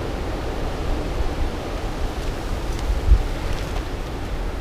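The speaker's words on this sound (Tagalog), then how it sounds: "Yung kaluskos ng hangin." Steady wind roars and rustles beside a river at a motorcycle campsite, forming a broad, even noise with a brief gust bump partway through. No voices are heard.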